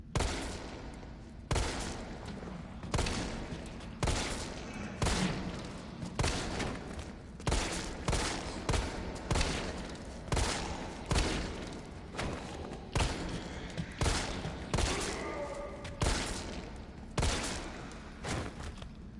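Rapid gunfire against zombies in Resident Evil 3 crackles nonstop, with dense repeated shots, thuds and booming impacts forming a loud, busy barrage.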